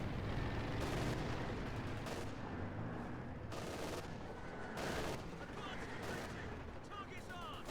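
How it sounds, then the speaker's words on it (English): Dense, continuous MG34 machine gun fire and other battle gunfire in the Company of Heroes 2 strategy game, a loud, unbroken rattle of shots with a commentator talking over it. "they're getting suppressed by an MG34"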